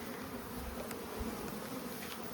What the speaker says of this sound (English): we have a cluster of bees back here